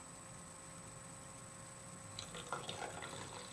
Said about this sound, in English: now we're going to pour the salt water